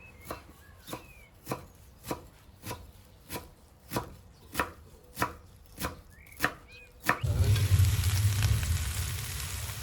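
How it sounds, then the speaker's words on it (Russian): Rapid knife chopping of fresh parsley and dill on a board, about a dozen sharp, evenly spaced strikes, then loud sizzling of frying food takes over. "Нарезаем зелень."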